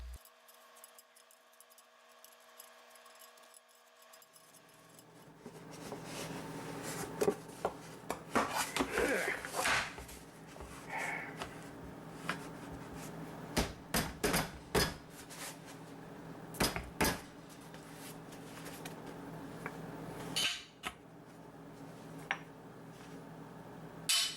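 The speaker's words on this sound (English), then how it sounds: "The pan will still be hot, and we'll need to use gloves for turning the cake over." A hot cast iron pan holding a pumpkin spice chocolate chip cake is handled and turned over with gloves, giving a series of close knocks, scrapes and metallic clunks after a quiet start.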